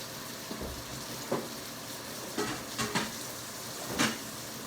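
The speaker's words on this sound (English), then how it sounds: "That gravy gonna come up off this skillet." Gravy cooking in a skillet gives a soft, steady frying sizzle with a few light scrapes and clinks of a utensil against the pan, close by and fairly quiet.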